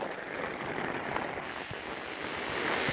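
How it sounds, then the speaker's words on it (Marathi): Rain falls steadily over a field during groundnut sowing, a soft, even hiss of drops that grows slightly louder toward the end, with no voices. "पाऊस इलो पाऊस"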